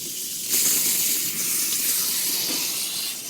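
A small handheld sprayer hisses in a steady, close spray of water over a cat during a home bath, starting abruptly and running on without talk.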